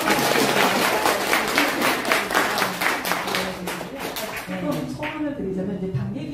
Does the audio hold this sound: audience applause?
yes